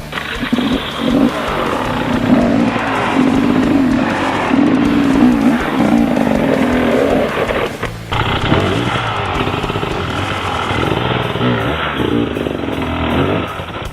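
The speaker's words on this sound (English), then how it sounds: "the bike will get traction and it'll want to climb up the rock" An enduro dirt bike climbs up a rock, its engine revving hard and loud with a rising, straining note. The revs dip sharply about halfway through and then pick up again in a sustained roar, with no talking.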